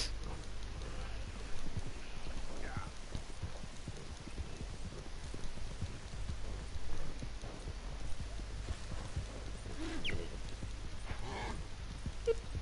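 Horse hooves clip-clop at a steady walking pace in Red Dead Redemption 2, soft and moderately near over low ambient game noise, with a few faint incidental sounds.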